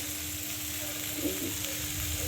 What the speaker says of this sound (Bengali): এখন আমি এর মধ্যে জল ঢেলে দেবো